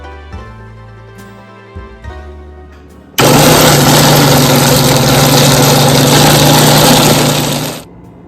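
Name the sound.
mixer grinder grinding dry roasted spice mix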